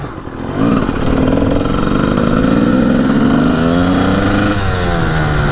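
A mint Honda CR250 two-stroke motorcycle engine starts up and revs loudly nearby, a steady buzzing drone whose pitch climbs and dips through several rev sweeps.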